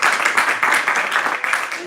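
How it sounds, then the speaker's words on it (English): An audience at a Rukmini Kalyanam discourse claps in a quick, steady rhythm, fairly close and loud, the clapping continuing without a break. "Oh, a clap today."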